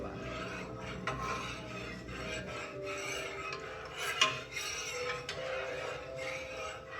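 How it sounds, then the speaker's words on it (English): A wooden spoon scrapes and rubs steadily against the bottom of a Teflon pan while stirring custard, a continuous close rasping with a few louder clinks and scrapes along the way. "Make sure you're continuously stirring, because it will stick to the bottom."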